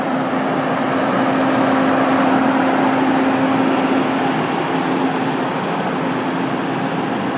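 Washington DC fire and EMS ambulance idling nearby, a loud, steady engine drone with a constant hum running unbroken throughout, no voices over it.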